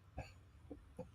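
A woman imitates a cough with three short, faint throat bursts spaced unevenly over about a second, a little muffled and thin, with no other voices around them.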